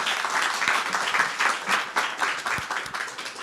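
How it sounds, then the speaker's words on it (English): Audience applause at a digital workforce reskilling event, a steady patter of many hands clapping throughout, moderately loud and uninterrupted by talk. "Thanks for this applause"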